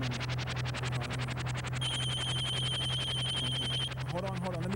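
A telephone rings with a steady, repeating electronic trill that holds for a couple of seconds over a constant low hum, followed by a brief voice near the end.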